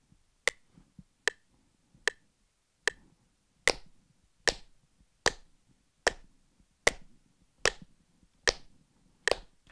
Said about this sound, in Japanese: クリックに合わせて、同じように頭だけを手拍子するのっていうのをやってみたいと思います